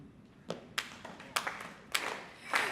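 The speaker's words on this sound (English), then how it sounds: "I'm just going to ask for you to clap with me." Handclaps from an audience asked to clap along before a song at a live performance. Five or six sharp, separate claps land at uneven intervals, faint and fairly distant, with quiet room tone between them.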